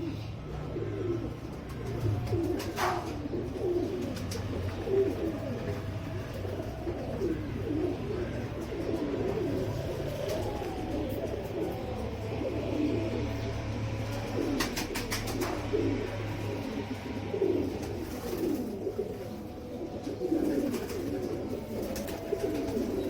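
Royal Teddy pigeons, a breeding group of three pairs, coo steadily in a loft. Soft overlapping throaty coos repeat throughout and sit close to the microphone, with a low hum beneath and no talking.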